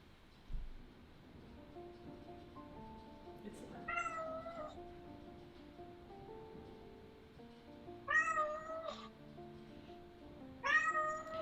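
Cats meow repeatedly and insistently in a few drawn-out, wavering calls spaced several seconds apart, fairly close, over a faint background hum with no talking.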